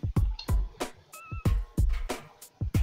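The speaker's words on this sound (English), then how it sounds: "Come on, kitty, kitty, kitty." Cat meows in the adventure game Deponia come as a series of short, loud, punchy calls in an irregular rhythm, close up with thumping low-end hits.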